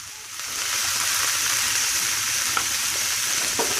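Potatoes for clam chowder cook in a pot, a steady loud sizzle and hiss with a few soft clicks from stirring.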